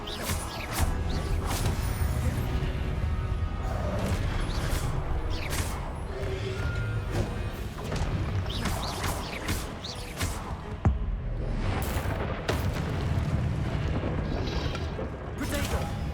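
Spell explosions in the Hogwarts Legacy video game: repeated booming blasts and crashes burst through a dense, continuous mix of combat effects. A voice calls out spell names over them.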